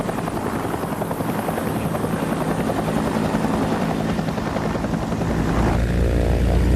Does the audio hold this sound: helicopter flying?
yes